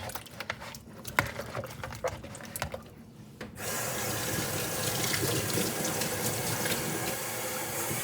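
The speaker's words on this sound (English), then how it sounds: "Make sure that's cold water. I don't use hot water on my meat." Cold tap water runs while raw meat is rinsed in a home kitchen; scattered rubbing and knocking come first, then the stream gushes in steadily and loudly for the rest, with no talk.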